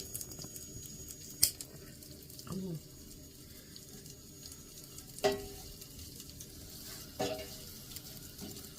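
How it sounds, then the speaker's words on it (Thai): Thai curry paste being stir-fried in a pan for a spicy squid stir-fry, a quiet steady sizzle with a few sharp spatula scrapes and clanks spaced through it, no talking. "กำลังผัดพริกแกงอยู่จ้า"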